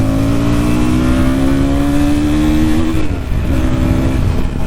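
KTM Duke 160 motorcycle pulling hard through its gears, a loud continuous engine note whose pitch climbs steadily, briefly drops at a shift, then rises again, heard close up without talk.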